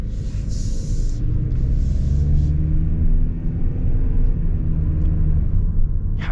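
A 2024 Toyota Prius Limited's hybrid engine runs as a steady low rumble heard from inside the car, with a faint droning hum and no talk.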